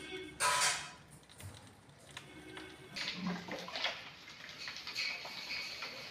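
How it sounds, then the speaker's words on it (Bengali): Tap water runs into a container in a home kitchen during dishwashing, a steady rushing hiss with a loud splashing burst near the start and light clatter around it. "আমি এদিকে জলটা ভরে দিচ্ছি"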